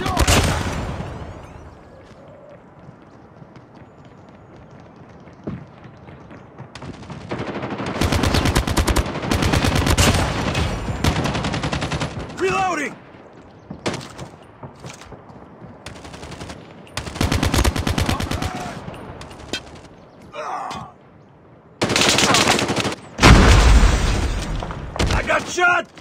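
Call of Duty Mobile gunfire in a Standoff Kill Confirmed match: loud bursts of automatic weapon fire and single shots come in clustered volleys with quiet gaps between them, and game voice callouts are heard between the shots.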